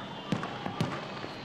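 Distant fireworks over the coast at Ofunato, Japan, pop in two dull booms about half a second apart, with faint crackles in between over a steady background hiss.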